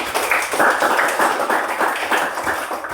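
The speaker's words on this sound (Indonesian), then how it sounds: "Oke, tepuk tangan untuk hari ini." Classroom of children at an elementary school clapping together, a steady dense patter of hands filling a few seconds, fairly loud and close.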